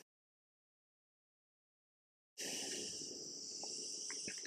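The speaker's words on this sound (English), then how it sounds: "these crickets start to make all that noise, and it's beautiful noise, but not when you're recording" Crickets chirping outside an open window on a hot night: after a stretch of near silence, a loud, continuous high chirring suddenly starts and fills the rest, close and steady, with no talking.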